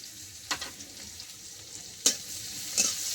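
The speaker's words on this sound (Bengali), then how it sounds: "এবার আমি এই পেঁয়াজ, অর্ধেকটা পেঁয়াজ ভাজবো" Chopped onion and green chillies fry in hot oil with a steady, close sizzle, broken by a few sharp stirring scrapes.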